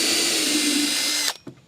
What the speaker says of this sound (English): I'm going to drill where my nails go